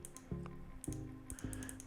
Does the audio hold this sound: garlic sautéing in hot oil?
no